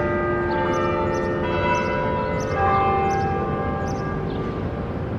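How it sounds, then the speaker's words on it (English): Church bells ring out along Fifth Avenue in New York, loud, sustained tolling with overlapping ringing tones, heard alone over a low street hum. "So you can hear the bells now."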